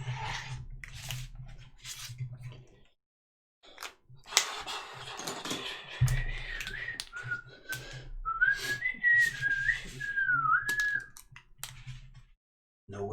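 A person whistles a wavering, rising and falling tune in a quiet room during a stream of a tabletop role-playing game, with scattered clicks and soft handling noises around it.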